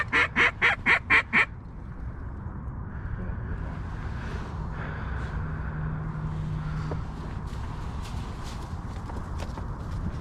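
During a boat duck hunt in Southern California, a handful of quick, rhythmic quacks ring out up close, then fade into a steady outdoor hiss with scattered faint splashes and knocks.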